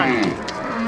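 A single cow at a livestock market lets out one short, loud, close moo with a falling, groaning pitch.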